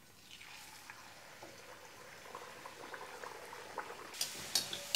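Methi puri deep-frying in hot oil, a faint, busy bubbling and crackling that grows louder and more spattery toward the end, with no voices.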